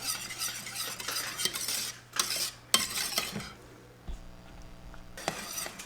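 Coconut cream pie filling stirred in a pot as it thickens, a spoon scraping and clinking against the pan in steady bursts, with faint bubbling between strokes.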